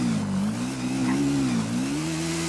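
A fully tuned motorbike revs in a GTA roleplay game while climbing a mountain, a steady mid-pitched engine drone rising and falling in pitch, close and loud throughout with no talk.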